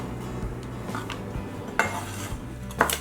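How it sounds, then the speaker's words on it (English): A knife slicing through half of a small onion on a cutting board, with two sharp, distinct cuts against a quiet kitchen background. "Slice it up."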